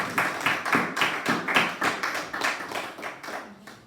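A church congregation claps in a steady rhythm of about eight sharp, fairly close beats that fade slightly toward the end, with no speech over them.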